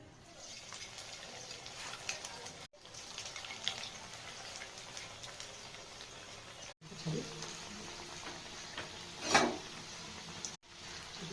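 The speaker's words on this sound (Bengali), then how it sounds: "ভালো করে একটু ভেজে নিতে হবে, একটু লাল লাল হবে।" Chicken kurkure fries in hot oil with a steady, soft sizzle and crackle that runs throughout, broken by a few brief gaps and one sharper spatter.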